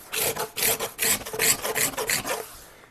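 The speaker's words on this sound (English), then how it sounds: "I didn't want that glue to get super hard yet because it'll scrape right up like that" A scraper drags over partly hardened wood glue along a wooden joint, giving loud, close, raspy strokes in an uneven rhythm of about ten pulls, with no voices.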